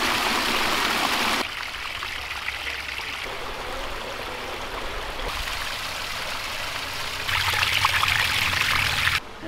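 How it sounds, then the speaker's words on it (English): Water from a renovated garden pond waterfall splashing onto rock, a continuous close rushing and trickling wash whose brightness shifts as the view changes between separate falls. "Every waterfall is a different sound. And you can hear it because that one comes down and it hits the rock again."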